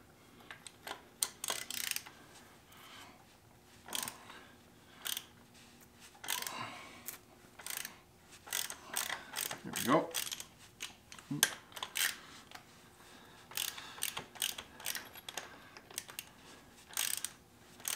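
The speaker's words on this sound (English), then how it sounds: "let me switch to a ratchet" A ratchet wrench works bolts on the steering of a Case David Brown 1394 tractor during restoration, with bursts of close, sharp clicking and metallic ratcheting spread across the stretch along with clanks of tools.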